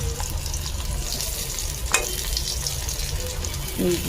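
Green banana (kanchkola) slices fry in a pan with a steady, close sizzle, a brief clatter near the middle and a stirring scrape toward the end; no talking.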